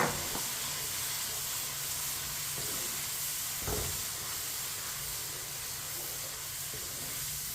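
Raw spinach is stir-fried in a hot pan over high heat, giving a steady, close hiss and sizzle with a few soft scrapes of stirring.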